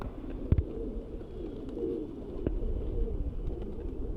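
A Kasni Chandna pigeon coos softly and close by, a low murmuring warble under faint background hum, with a sharp tap early on.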